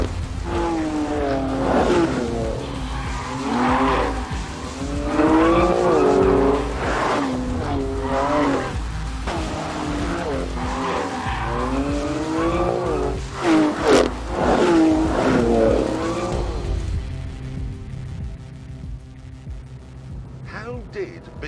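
A Porsche 911 GT3RS and a BMW M4 GTS race on a wet track in the rain, engines revving and rising through gears with tyre noise, loud and close, before fading near the end as someone talks over them.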